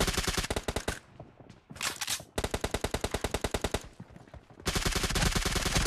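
Rapid automatic gunfire from PUBG Mobile Lite, loud bursts of machine-gun shots in dense rhythmic volleys, with a short pause and a brief break before a final sustained burst.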